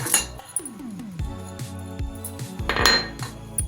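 A spoon clinks and scrapes against a bowl while spices, onion, green chilli, salt and coriander are mixed into a cauliflower filling for Bengali paratha, with close, busy metallic knocks and no talk.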